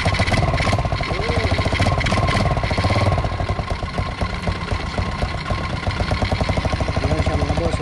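A Yamaha Crypton Z 110 motorcycle engine runs loud and close after a new CDI is fitted, idling with a steady rapid pulsing rhythm and slight rev changes, no voices over it.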